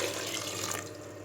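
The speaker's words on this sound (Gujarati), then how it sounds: "પાણી રેડીશું આપણે," Water pours steadily into a vessel of soaking sago pearls in a home kitchen, a continuous close splashing rush that eases slightly toward the end.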